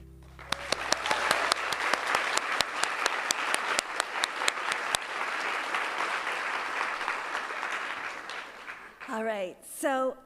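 An awards ceremony audience for children's literature honorees breaks into sustained applause, a few sharp claps standing out at first, then a dense steady wash of clapping that fades before a voice speaks at the end.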